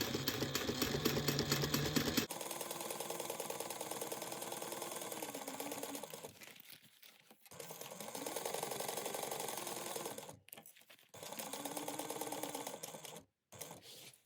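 A sewing machine basting the bottom gusset of a laptop bag at a narrow seam runs in steady stitching bursts, pausing briefly between runs, close and fairly quiet with no talk.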